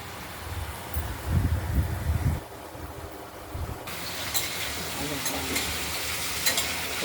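Potatoes and drumstick pieces sizzle in a pan while being stirred, with scraping and rustling that is loud at first, then a steady frying hiss with light clinks after the lid is lifted.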